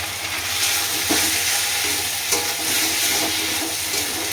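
Potatoes sizzling in hot oil with turmeric, chili powder and salt for a fish curry: a steady, close crackling sizzle runs throughout, with occasional stirring knocks.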